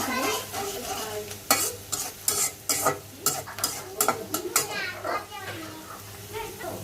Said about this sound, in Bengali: পেঁয়াজটা ভাজবো ভালো করে পেঁয়াজটা ভাজ ভালো করে ভেজে নিব